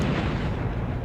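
Blaster gunfire in the Nintendo 64 game Star Wars: Shadows of the Empire, Ord Mantell level, forms a loud, dense, continuous rumbling burst of noise that lasts about a second.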